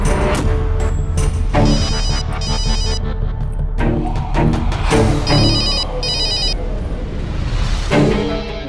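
A mobile phone ringtone plays in repeated short electronic bursts, fairly loud and near, over a low background hum.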